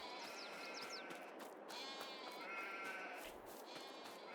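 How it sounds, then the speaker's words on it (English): Sheep bleating in Farming Simulator 22, several overlapping bleats in a continuous faint chorus over ambient farm background, with no talk. "Well, we got sheep"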